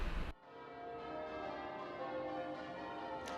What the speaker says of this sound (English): the sound of bells is just stunning